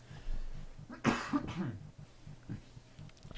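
A single adult cough lands close to the microphone, one sharp burst with a short throat-clearing tail, followed by quiet room noise and a faint low hum.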